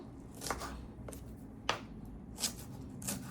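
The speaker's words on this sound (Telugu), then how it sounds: "ఇది కొంచెం ఇప్పుడు గ్రీన్ చిల్లీస్ కట్ చేసేసుకుందాము" Green Thai chillies sliced on a board while making prawn curry: a few soft, sparse knife taps close by, about four cuts spaced unevenly over a quiet kitchen background.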